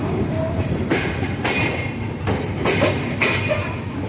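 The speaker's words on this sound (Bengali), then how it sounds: "আমাদের ট্রেনের ইঞ্জিন অলরেডি প্রবেশ করেছে যশোর স্টেশনে" The Sundarban Express pulling into Jessore station, loud and close from on board, with steady rumbling wheels, rhythmic clickety-clack of the rail joints and brief squeals as the train slows.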